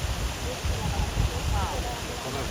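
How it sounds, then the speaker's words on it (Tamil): An artificial waterfall cascade at the Royal Palace of Caserta in Italy pours with a steady, broad rush of falling water, continuous and moderately close, while a voice talks over it. "இங்கே பாருங்கள் எவ்வளோ அழகாக தண்ணி ஃப்ளோ ஆகுது"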